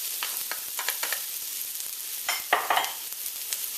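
Ginger sizzling in a pot while being stirred, with soft scrapes and taps of a utensil under a steady hiss, close and moderately loud, no voices.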